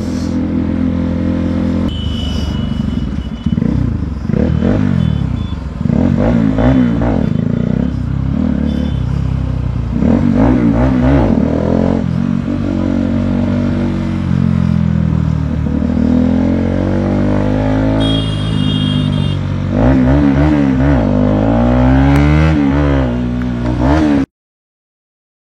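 A motorcycle carrying a passenger rides slowly through dense crowd traffic near Furfura Sharif, its engine loud and steady with frequent revs and horn-like tones, and other vehicles clattering around throughout.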